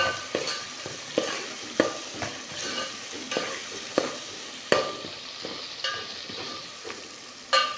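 Curry leaves sizzle in hot oil for a Kerala-style matti fish pulusu, a continuous frying hiss broken by regular scraping stirs of a spoon against the pan, fairly close and with no talk.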